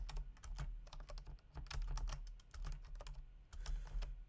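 Someone types a command on a computer keyboard, with quick close key clicks in uneven bursts and short pauses.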